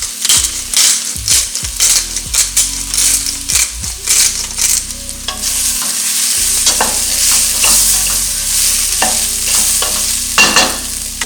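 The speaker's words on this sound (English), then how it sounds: "And we're adding our garlic in now too." Garlic, red pepper and black pepper frying in a pot for a cauliflower fennel soup: loud close sizzling with repeated scraping, clinking stirs of a utensil against the pot, and the sizzle swelling and staying steady.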